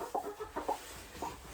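A broody hen being lifted from her nest of eggs gives low, grumbling clucks in short bursts, four or five quiet clucks close by with no talk.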